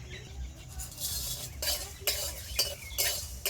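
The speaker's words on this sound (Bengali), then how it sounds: "এই মশলাগুলো আমি খালি কড়াইতে ভেজে নেবো" Whole spices (dried red chillies, cardamom, fennel, cumin and coriander) dry-roasting in an empty kadai for tamarind pickle masala, with a soft background sizzle and close, intermittent scraping and clinking of a spatula stirring against the pan.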